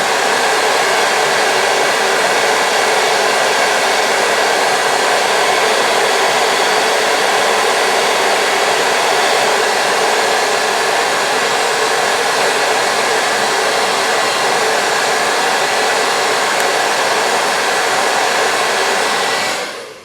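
A hair dryer blows on lace wig glue, a loud, steady, close-up whoosh that holds for about twenty seconds before cutting off at the end.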